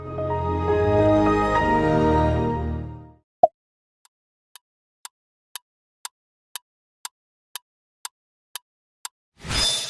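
A Microsoft startup sound plays, a rich swelling chord lasting about three seconds before a short pop, followed by evenly spaced ticking like a countdown timer.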